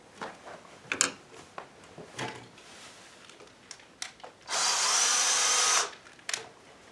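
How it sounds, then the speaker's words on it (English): A power drill driving screws into a window frame for blinds whirs in one sustained burst after several short clicks and knocks, the motor running for about a second before stopping. "I'm going to use a drill because it's a little bit easier to get it in."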